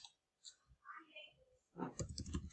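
Quick clicking keystrokes on a computer keyboard as a search phrase is typed, a burst of fairly close, crisp taps near the end following a stretch of faint, quiet room sound.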